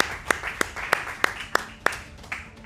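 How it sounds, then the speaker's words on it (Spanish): Clapping breaks out in a live studio show for viewers connected from home: a few nearby hands beat out a steady, evenly spaced rhythm of distinct claps, about three per second, over a faint room murmur. "¡Un aplauso para ellos, por favor!"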